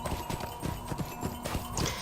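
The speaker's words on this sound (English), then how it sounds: "You are wasting time if you're not on your horse just walking about between all these points" A horse clip-clops at a steady walking pace in Lord of the Rings Online, an even run of hoof beats over soft game ambience.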